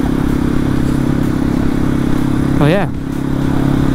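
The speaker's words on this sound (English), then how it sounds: "I could take this little motor up high in the RPMs and it loves it" Janus Halcyon 250 motorcycle engine running steadily at high RPM while riding, a constant loud drone with a brief rising-and-falling rev swell near the end, with a rider's voice over it.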